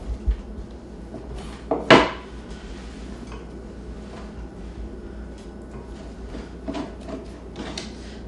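Knife cutting through food in a pan, a sharp metallic clack near the start of the second second followed by quieter scattered taps and scrapes of utensils on cookware, close and sparse, with no talking.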